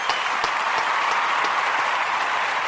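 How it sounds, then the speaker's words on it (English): Dense, steady applause from a crowd fills the whole stretch, a broad even roar of many hands clapping with no pauses. "Round of applause, everybody!"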